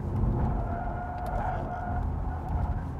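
Audi RS e-tron GT electric sports car driven hard on a race track in Dynamic mode, a steady close road roar with faint tire squeal and a thin whine, no engine revving.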